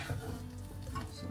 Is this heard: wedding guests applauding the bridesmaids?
no